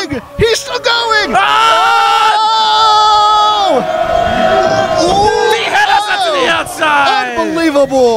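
A wrestling crowd yells, whoops and cheers loudly and continuously at a pro wrestling show, with long sustained shouts and rising bellows throughout.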